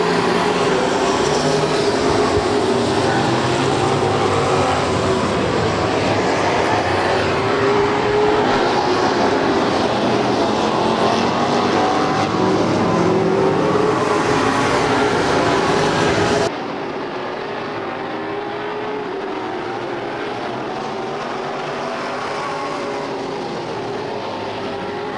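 Stock cars race around an oval track at Stockton, a loud, sustained roar of engines that fills the first two-thirds, then drops abruptly to a quieter, more distant drone.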